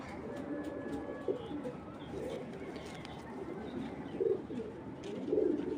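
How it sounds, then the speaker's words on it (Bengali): A female racing pigeon of Belgian stock coos in low, soft bursts close by, with a steady murmur of other birds and faint background noise throughout. "এটা হলো মাদি কবুতরটা"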